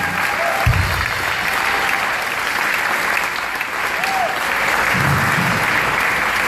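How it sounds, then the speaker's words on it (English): A theatre audience gives a sustained round of applause that fills the room at a steady, even level, with a few low thumps and a faint voice underneath. "So a round of applause."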